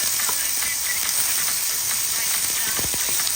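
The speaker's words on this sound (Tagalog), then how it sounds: "ginigisa ko na po ang ating bawang, ang ating sibuyas at ang ating luya" Garlic, onion and ginger sautéing in a pan make a loud, steady hiss with a dense crackle, close and constant throughout the short stretch, with no pauses.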